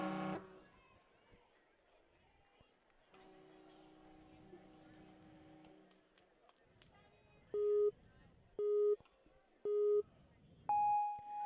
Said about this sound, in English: she's going to go hit that buzzer